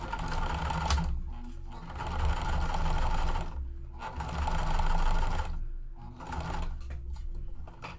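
A sewing machine top stitches a Hugo handbag, running in steady buzzing bursts of a second or two with brief pauses between runs, close and fairly loud.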